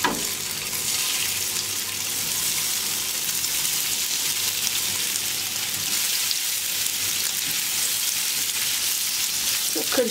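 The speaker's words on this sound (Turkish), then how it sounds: "Yağ ısındıktan sonra köfteleri içerisine bırakıyorum." Meatballs (köfte) sizzling and frying in hot oil in a pan, a steady dense crackle that runs unbroken and fairly loud from start to finish, with no talking.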